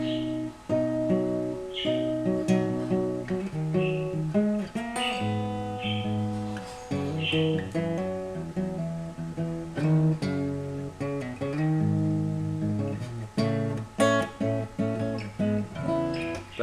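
Acoustic guitar plays a passage of a fingerstyle piece, with ringing bass notes and layered chords sounding close and steady for about seventeen seconds, no talking.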